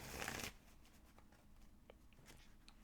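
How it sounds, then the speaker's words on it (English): A tarot card deck is riffled in a brief burst of crisp papery shuffling, close and fairly loud, followed by quiet with a few faint taps and rustles of cards. "Actually, I'm shuffling the wrong deck."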